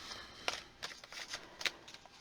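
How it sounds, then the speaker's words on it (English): Tarot cards are shuffled by hand in a quiet room, giving soft riffling and tapping bursts at an irregular rhythm, close and fairly faint. "getting a nice shuffle on these cards before we start to pull"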